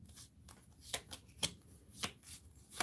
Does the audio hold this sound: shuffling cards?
yes